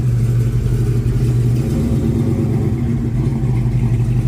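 A Chevelle SS 454 at a car show rumbles loudly up close with a deep, steady idle and a slight swell in revs, no talking over it.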